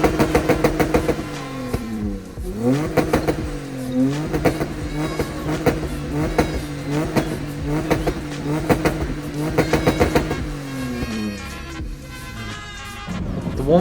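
Mitsubishi FTO engine running with repeated revs, the pitch climbing and falling in rhythmic bursts, close and fairly loud with no talking.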